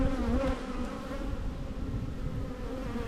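Italian honeybees at an open hive give a dense, continuous buzzing drone, close and steady, with no talk.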